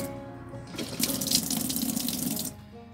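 Water runs from a tap inside a converted ambulance, gushing steadily for about a second and a half before cutting off, close and fairly loud with no talk over it.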